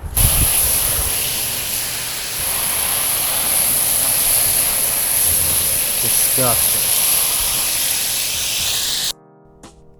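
Pressurised water from a hose sprays onto a stained car seat during interior detailing, a steady loud hiss running for about nine seconds before stopping abruptly, with a brief spoken word over it.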